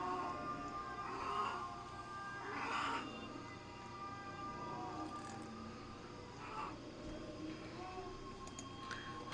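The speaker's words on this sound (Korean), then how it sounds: "고양이 소리." An indoor house cat meows a few times, each drawn-out call spaced several seconds apart and fairly faint above a low, steady room hum.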